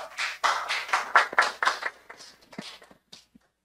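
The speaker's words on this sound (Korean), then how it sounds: "박수 부탁드립니다" A small audience at a basic income forum session claps, starting in dense bursts that quickly thin into scattered claps and die out within a few seconds.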